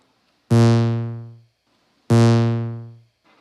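Two identical synthesizer notes with sustain set to zero, each striking sharply and decaying smoothly to silence within about a second, separated by a short pause.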